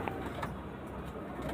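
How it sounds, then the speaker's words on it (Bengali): Cooing from a male and female pair of Andhra Pradesh breed pigeons kept for breeding, soft low coos repeating steadily over a constant background hum, no talking. "এটা কিন্তু অন্ধ্রপ্রদেশের পায়রা"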